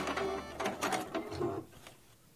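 A sewing machine stitches shut the opening of a skirt with pockets, a close whirring run of needle strokes in short bursts that slows and stops.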